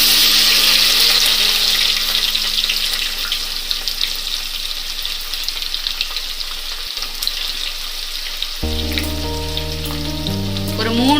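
Onions fry in a pan with a steady, loud sizzle close up, the hiss running continuously before a tonal hum cuts in near the end.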